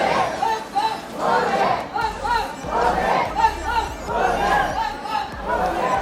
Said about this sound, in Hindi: आप देख सकते हो बहुत ज़्यादा भीड़ थी यहाँ पे दर्शन के लिए